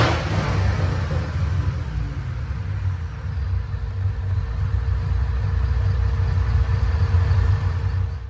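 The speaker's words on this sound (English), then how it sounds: "Don't you love that Rwhp muscle car sound?" A modified 2013 Ford GT500 muscle car with a new cam idles steadily with a deep, low rumble throughout, close and fairly loud, with no talking.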